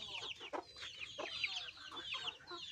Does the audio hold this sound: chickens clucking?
yes